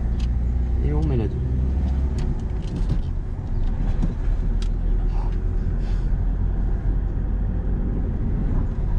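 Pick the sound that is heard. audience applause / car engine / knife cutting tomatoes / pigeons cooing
car engine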